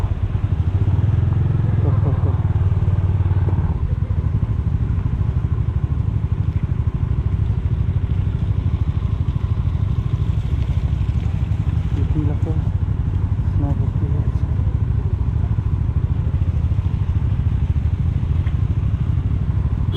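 A motorcycle rides along a snowy winter mountain road in Spiti, its engine a steady, close droning rumble that runs unbroken throughout, with occasional clatter over the rough surface.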